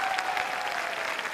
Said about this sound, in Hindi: तो एक ताली मैं आप सबके जोश के साथ नेटसर्फ के लिए चाहूंगा